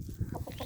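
A rooster's short run of low clucks, close and fairly quiet, a few quick notes with no talk over them.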